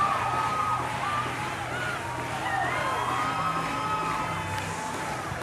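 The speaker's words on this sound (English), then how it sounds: "Listen to this crowd." Crowd noise at a baseball game in Nashville, a continuous roar of cheering and babble with scattered whoops and whistles rising above it, fairly distant and steady, under a commentator's voice.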